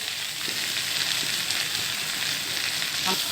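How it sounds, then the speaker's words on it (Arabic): Rice is sautéed in ghee and oil with black pepper and salt, giving a steady, close, crackling sizzle throughout, with light stirring scrapes and no speech. "بالسمنه والزيت والفلفل الاسود والملح كده كده شوحناه"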